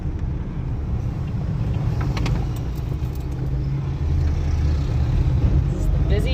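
Continuous road traffic rumbles at a traffic circle in Belize's busy capital, with engines droning steadily and loudly close by, a heavier vehicle passing partway through.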